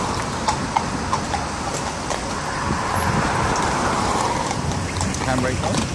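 Horse hooves clip-clop steadily on a horse-drawn ride from the Guinness brewery, close and continuous under traffic noise from the street, with people talking nearby.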